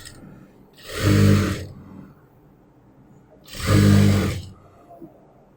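Sewing machine stitching a chiffon sleeve onto a churidar top, two separate bursts of about a second each, close and fairly loud, with a quiet pause between them.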